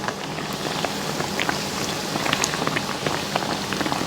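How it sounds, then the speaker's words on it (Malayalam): Small chicken shawarma pockets shallow-fry in hot oil, turning light golden brown, with a steady close crackle and sizzle of popping oil and no talk. "ഒരു ലൈറ്റ് ഗോൾഡൻ ബ്രൗൺ കളറായിട്ട് വറുത്തെടുക്കും"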